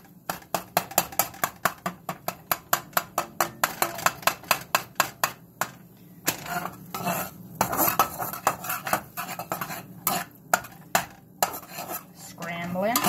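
A utensil repeatedly clacks and scrapes against a pan while scrambled eggs cook, striking in a fast, steady rhythm that loosens into irregular, louder scraping. The sound is close and heard alone, with no talk.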